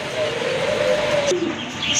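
Pigeons at a bird market cooing up close, a soft, low, drawn-out coo followed by a shorter lower note over light background noise.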